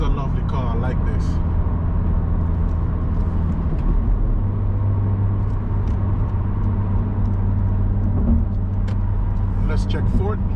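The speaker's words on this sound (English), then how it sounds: "so you do get real exhaust sounds" Engine and exhaust of a new Honda Civic Si sport compact, a steady near drone with a low hum under continuous talk throughout.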